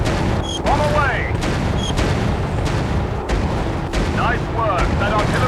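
Repeated booms and blasts of bombs dropped from a bomber on artillery in the game Warplanes, dense and loud, mixed with whistling projectiles and constant battle noise.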